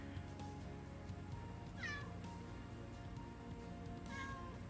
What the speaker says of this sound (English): We're trying to get the kittens to come out and be a little sociable.